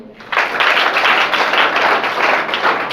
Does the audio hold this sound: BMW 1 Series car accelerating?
no